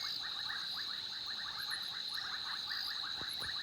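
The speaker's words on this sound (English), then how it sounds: "there's frogs called bubbling casinas that are just absolutely incredibly loud when you have dozens and dozens of them together" A dense chorus of bubbling kassina frogs calls continuously in the wild, many overlapping bubbly notes repeating rapidly alongside a steady high insect drone, with no talking.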